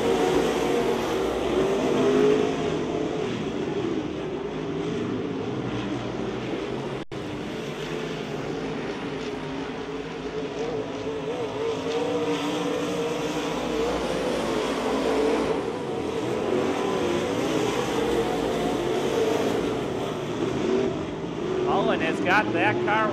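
Race cars circling a speedway track, a continuous loud engine roar rising and falling as they pass, with an announcer talking over the racing throughout.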